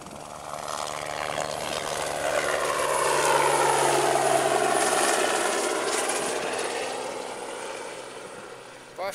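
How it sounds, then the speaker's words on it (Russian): A helicopter lifting off from a city heliport, its rotor and engine roar swelling from a distant hum to a loud sweeping peak in the middle before slowly receding again, with no one talking. "наверное, вертолет поднимается тоже."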